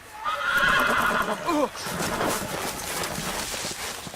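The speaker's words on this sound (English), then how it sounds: "Why was I walking my horse on a road?" A horse in the video game Game of Thrones whinnies with a rising, shaky call, followed by hoofbeats and rustling movement.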